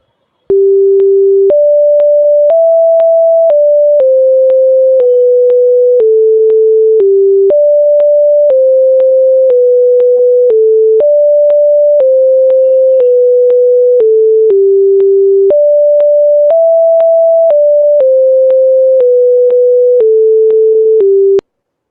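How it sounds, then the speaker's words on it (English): A computer-generated pure tone from SCILAB audio processing steps through a repeating melodic sequence of sustained pitches, loud and clean with no background, each note lasting about a second over roughly twenty seconds. "So this was the third tone."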